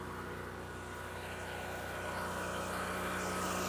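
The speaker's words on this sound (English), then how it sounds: "This is way too close to launch this drone." Propellers of an agricultural spray drone spin up for launch on a big field, a steady loud droning whir with a strong tonal hum that holds and slightly builds throughout, close by with no talk.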